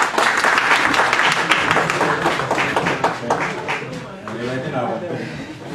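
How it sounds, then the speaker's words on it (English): Clapping from a symposium audience comes in a loud, dense burst that gradually softens, while voices start speaking over the tail of the applause. "Please, let's clap for them."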